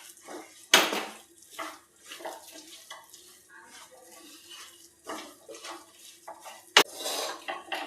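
A spoon stirs and scrapes a mandvi pak mixture of peanuts and ghee in a pan, with irregular clinks and two sharp metallic knocks amid soft scraping and faint kitchen background.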